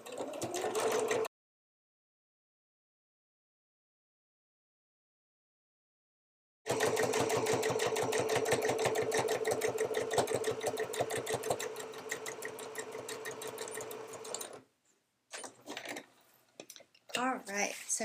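A sewing machine top stitching a row along a long padded strap for a low profile hip bag, with a brief burst at the start, then a steady, close, rapid needle chatter for several seconds, ending in short stop-start runs.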